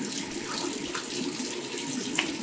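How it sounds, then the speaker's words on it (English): Water from a bathroom sink tap runs in a steady close splashing stream while a face is rinsed after a shave, with no talking. "I should rinse my face real quick."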